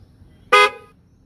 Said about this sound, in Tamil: music library car horn sound இருக்கா